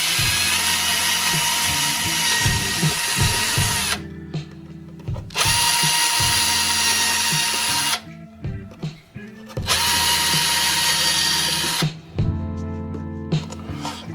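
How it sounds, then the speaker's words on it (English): A 4 mm hole is drilled through the hatch cover of an RC surfboard, with the drill running in three loud, close, sustained bursts of about four seconds each, separated by short pauses. "4mm we're going to drill out by hand"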